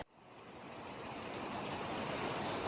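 Ryder Creek rushes along beside the Pacific Crest Trail, a steady broadband wash of flowing stream water, even and continuous, heard alone without voices.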